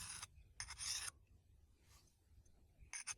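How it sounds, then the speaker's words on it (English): A fine sharpening file rasps along the bevelled blade of garden shears in short strokes: two close bursts, a pause, then a quicker pair. The scraping is near and fairly quiet. "grab your fine sharpening tool and run it at the beveled angle or slightly higher"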